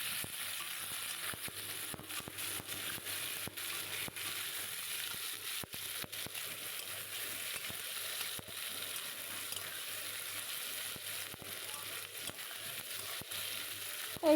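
Chopped medium onion frying for a spicy tangra fish curry makes a faint, even sizzle, broken by light clicks of stirring, with no speech.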